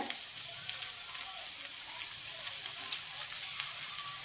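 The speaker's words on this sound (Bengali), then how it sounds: "এবার শুধু ভাজার পালা একটু সামান্য নুন দিয়ে দিই নুন দিলে একটু তাড়াতাড়ি হয়ে যাবে ভাজা" Eggplant and potato pieces with a little salt frying in oil in a pan give a soft, steady sizzle with faint crackles throughout, quiet and continuous.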